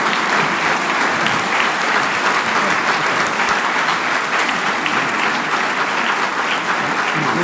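Steady, dense applause from a full audience at the 2016 Layton and Taylor Awards ceremony, greeting Dr. Charles Taylor, holding at an even level throughout with no voices.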